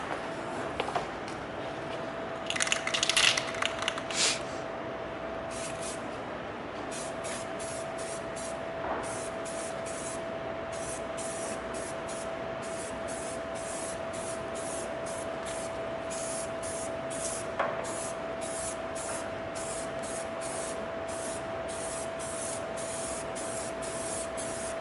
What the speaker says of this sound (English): and the painting begins.